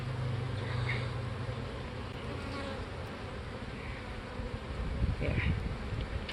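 A steady, dense buzz of many honeybees around a hive, continuous and moderately loud throughout, with a low hum underneath.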